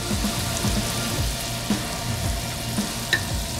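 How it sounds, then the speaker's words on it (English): Flour-coated pieces sizzling and frying in a very hot, smoking pan, a loud steady crackle with scattered pops and spits throughout, no voices. "Yes, love that sizzle."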